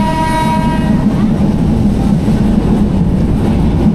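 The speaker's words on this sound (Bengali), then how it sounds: "ট্রেনের গতি একদম কমিয়ে ফেলা হয়েছে" The Nasirabad Express passenger train runs on rails at night between Feni and Chattogram as it slows. A horn blast opens over a loud, close rumble of wheels and carriages that continues steadily, with no talking.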